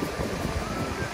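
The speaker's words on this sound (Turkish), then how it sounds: "okyanusun sesi geliyor ya" Ocean surf at Montauk beach, a soft, diffuse wash of waves mixed with wind buffeting the microphone, faint and continuous over a brief stretch.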